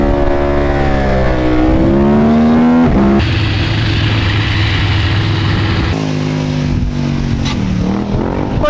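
The LC8 V-twin engine of a 2018 KTM 1290 Super Adventure R motorcycle revs close by, its pitch sweeping up and down in repeated swells with no talk over it.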